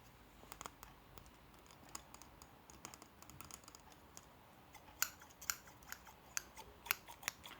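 Scissors snip close up in a quiet room, a run of soft, crisp cuts that gets sharper and more distinct toward the end, with no talking.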